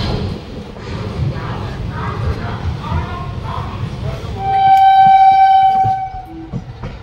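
The Bagh Express rumbles past close by on the Burdwan line, a steady rolling clatter of wheels, then its horn sounds a loud sustained blast for about two seconds before the noise fades.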